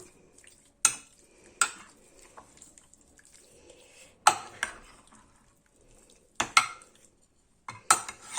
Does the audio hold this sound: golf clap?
no